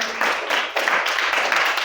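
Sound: classroom clapping for a student

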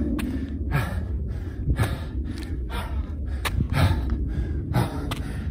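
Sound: heavy breathing during uphill HIIT workout

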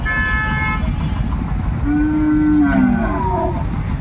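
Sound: cow mooing at cattle market

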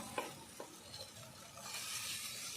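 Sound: stir-frying fried cauliflower with spices

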